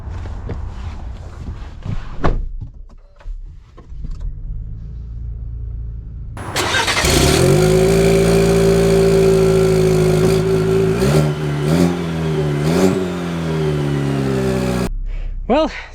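A 2024 pickup engine, either a Ford F-150 2.7L V6 or a Chevy Silverado TurboMax, cranks and fires, then revs up with a loud rising roar as it pulls away. Footsteps and shuffling come first, and it cuts off abruptly.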